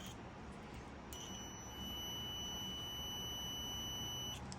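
A multimeter's continuity beep sounds as a steady, high electronic tone that holds for a few seconds against faint background hiss. Nobody speaks while it rings.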